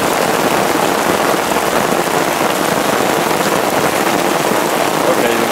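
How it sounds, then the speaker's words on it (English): Steady heavy rain pours down outdoors onto a rain-catchment setup and into a partly filled bucket, a dense, continuous hiss and patter at close range with no break across the whole stretch. "The rain is definitely coming down right now."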